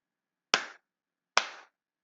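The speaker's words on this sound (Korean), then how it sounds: "박수 소리만 나도 바로 거짓으로 바뀌죠" Two sharp hand claps, close and crisp, spaced under a second apart in an otherwise silent room, used to trigger a sound sensor.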